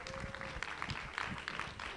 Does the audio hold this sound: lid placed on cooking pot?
no